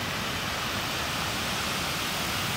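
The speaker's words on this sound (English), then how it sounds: "And you got two sets of rapids" Rapids on the Broad River at Gaston Shoals rush in a steady, dense hiss of churning water, close and unbroken with no voices over it.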